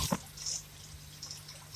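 Water falling from above trickles and patters softly, with a sharper splashing tap at the very start, faint and close, with no voices.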